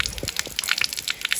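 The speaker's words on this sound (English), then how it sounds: "If you guys listen, you can actually hear the water." Clear river water in rural Jamaica rushes and splashes steadily nearby, a busy, bright gushing with small irregular spurts, heard alone without voices.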